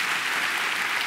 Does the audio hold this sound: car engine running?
no